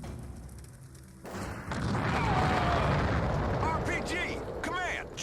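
A large explosion in the Xbox video game Without Warning erupts after a short quiet stretch, sustained as a heavy rumbling roar with crackling debris and tonal effects, under shouted game voices.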